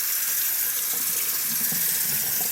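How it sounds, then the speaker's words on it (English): Cold tap water gushes steadily into a kitchen sink over drained, cooked food, a continuous close hiss and splash with no talking. "I'm going to shock them with some cold water."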